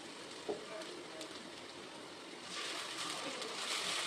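Large onions sautéing in a pan for a spicy crab kuzhambu give a steady, close sizzling hiss that grows louder and denser partway through.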